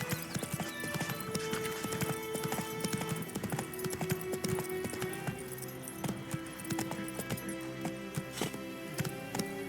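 Hoofbeats of Roach, Geralt's horse in The Witcher 3, galloping in a steady, fast clip-clop rhythm that runs through the whole stretch, close and fairly loud over game ambience, with a faint whinny.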